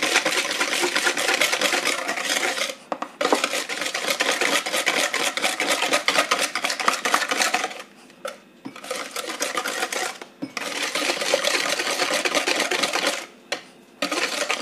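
Eggs being mixed into carrot cake batter, a continuous mechanical whirring rattle with several short pauses, close and fairly loud.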